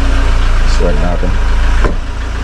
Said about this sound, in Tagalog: Painitin mo natin yung sasakyan